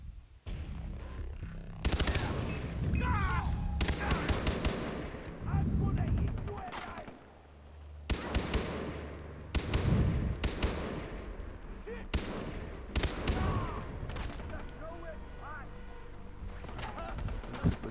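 Gunfire in Far Cry 3 gameplay, with repeated bursts of shots and rapid volleys crackling across the clip, loud and close, broken by short lulls, with someone talking over parts of it.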